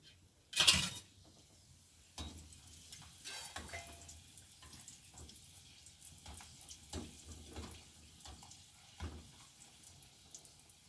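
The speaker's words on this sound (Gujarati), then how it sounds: "હવે આપણું આ આવી ગયું છે ને હું આ કાસરી તળી નાખું" Dried bitter cucumber (chibhda) kasri frying in hot oil over a low gas flame, a soft continuous sizzle with scattered crackles and an early louder splash as pieces go in, close and without speech.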